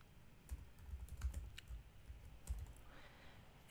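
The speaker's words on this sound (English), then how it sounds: "Now enter your password correctly" A password is typed on a computer keyboard, a run of soft, irregular keystrokes and clicks lasting a few seconds, close but faint.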